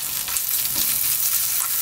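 Garlic dropped into a couple of spoons of hot cooking oil, giving a loud, close, steady crackling sizzle that stays even for the whole short moment, with no talking.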